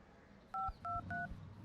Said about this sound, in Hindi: फोन क्यों कट किया तुमने?